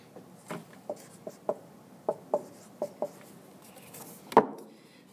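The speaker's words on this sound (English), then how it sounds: "gotta write it down a little bit more" Marker or chalk writing on a board during a chemistry lesson: a run of short, dry taps and strokes at an uneven rhythm, ending in one louder knock, with no speech over it.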